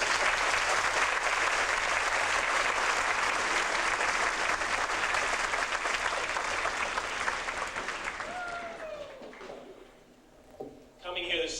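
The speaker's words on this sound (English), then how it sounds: "let's give them another round of applause for their performance." Dense, sustained applause from a concert audience after a high school marching band's performance, loud and steady for several seconds before thinning out, with a voice briefly emerging near the end.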